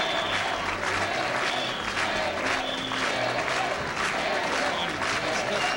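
An election-night crowd in a New York hall cheers, claps and chants as the mayor arrives, a dense, continuous roar of many voices with rhythmic chanting throughout.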